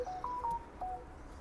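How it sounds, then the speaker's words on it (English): A mobile phone gives a few short, faint electronic tones in quick succession, heard over a quiet room during fridge repair work. "that was my phone."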